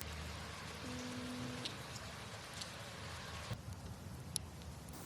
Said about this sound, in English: The evening was rainy and cozy